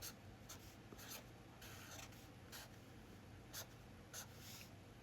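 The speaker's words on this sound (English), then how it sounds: "I tried to write that so you guys could see it clearly" Marker or chalk strokes on a board come in short scratchy bursts, quick squeaky rubs with brief pauses, faint and close over a low steady hum, with no voices.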